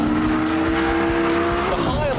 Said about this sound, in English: it was time to let the power do the talking and give my orange manual some stick round the track